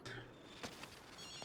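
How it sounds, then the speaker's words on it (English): A telephone rings inside the video game Ghostwire: Tokyo, with short, faint electronic ring bursts that sit amid quiet game ambience. "Oh, it's a phone call."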